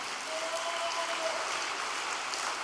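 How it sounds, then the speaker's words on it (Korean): A congregation at a church gathering applauds in encouragement, a steady wash of many hands clapping at moderate distance, even and sustained throughout. "격려의 큰 박수를 보내주시면 좋겠습니다"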